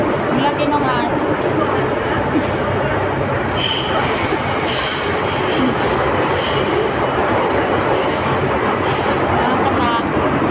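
Loud, steady rumble of a moving train from inside a carriage with a large dog aboard, metallic wheel squeals rising partway through and voices talking in Filipino under the noise.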